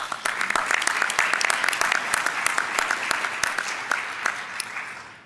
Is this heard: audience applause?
yes